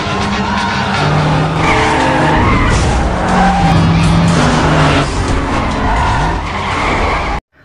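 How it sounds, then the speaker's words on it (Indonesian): Cars racing with tires skidding and squealing, loud and close, with engines roaring and rising squeals running continuously for about seven seconds before cutting off abruptly. "Balapan pun dimulai."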